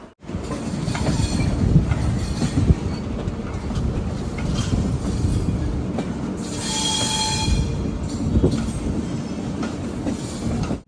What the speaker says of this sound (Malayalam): റെയിൽവേ സ്റ്റേഷനിലേക്ക് ഇതാ എത്തുകയാണ്.